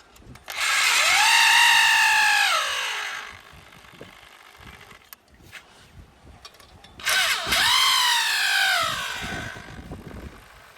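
Power drill driving screws and nut bolts, two whining bursts a few seconds apart that rise and slow as each fastener tightens, separated by quieter handling clatter.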